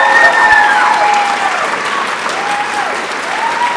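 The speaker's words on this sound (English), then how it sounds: "Please applaud for every single one." Dense audience applause fills a high school orchestra concert hall, steady and loud throughout with a continuous wash of many hands clapping, no individual claps standing out.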